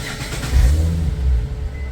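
An Infiniti G37 sedan fitted with quad carbon fiber exhaust tips revs up, a deep close exhaust rumble that swells twice over two seconds.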